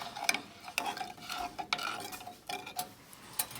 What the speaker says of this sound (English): I will be mixing the coffee.